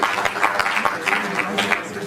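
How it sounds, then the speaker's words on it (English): Short burst of applause for a seminar speaker at a catalyst event, steady dense clapping from an indoor audience, with faint voices under it. "Please, a round of applause."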